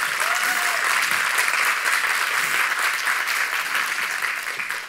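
Sustained audience applause at a talk, a dense, steady wash of many hands clapping that fills the whole stretch at even volume and tapers slightly at the end, with no speech over it.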